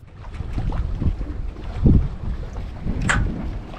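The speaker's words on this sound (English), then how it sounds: "That luffing in the main is like just the misshapenness of the the bagginess of the sail" A baggy mainsail luffing on a sailboat out at sea, with irregular flapping and rumbling gusts of wind noise, a heavier flutter near the middle and a sharper snap toward the end, close and fairly loud with no talk.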